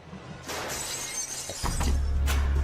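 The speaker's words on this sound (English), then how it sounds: "they hear a crashing sound like broken glass" Glass shatters in a sudden crash indoors at night, a bright burst of breaking shards followed by a louder, heavier crash with a low rumble underneath, no voices.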